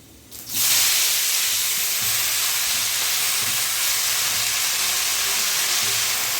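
Red amaranth greens dropped into hot oil with garlic burst into a loud, steady sizzle after a brief quiet start, the hiss holding strong and close throughout.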